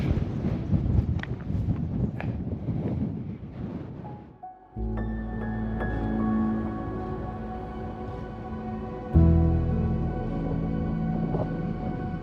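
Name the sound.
strong wind on a fell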